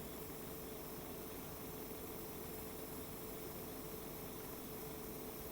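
An airbrush sprays Millennium Falcon colours of pre-thinned paint onto an MG Providence Gunpla model kit, giving a steady, unbroken hiss over a low hum that holds at an even level throughout.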